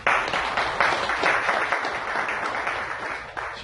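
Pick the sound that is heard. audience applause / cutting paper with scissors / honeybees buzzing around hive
audience applause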